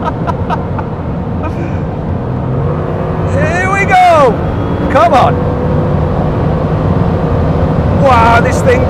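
A Bugatti Chiron Super Sport accelerates hard, its low engine drone running steadily beneath loud, excited talk and laughter inside the car.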